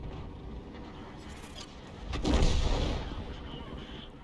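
An M53/M55 self-propelled artillery gun fires in a video game sandbox, one heavy booming report midway that rolls and fades over a second or so, with faint ambient noise before and after.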